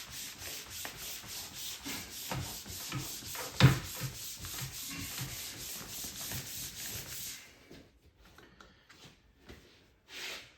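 Hands rubbing and smoothing a rubber sheet down onto a Spy Hunter sit-down arcade cabinet seat, working outward toward the edges: steady rhythmic rubbing strokes close up for about seven seconds, then quieter scattered touches.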